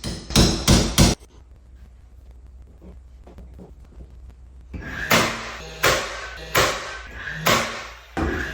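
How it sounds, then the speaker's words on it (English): A DeWalt pin nailer drives pins into a white oak floating shelf, firing in a quick burst of three sharp cracks, then after a quiet gap five more evenly spaced snaps, close and loud. "I take my DeWalt pin nailer and I pop some pins just to hold the shelf in place"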